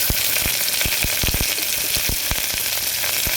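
Onion and green chili frying in a pan for cauliflower biryani, a steady close sizzle with repeated sharp clicks of a spoon stirring against the pan throughout.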